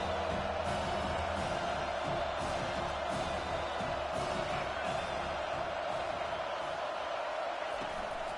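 Home crowd in a 2K football video game roars and cheers steadily throughout, a dense continuous wall of crowd noise with scattered whoops, faint commentary voices underneath.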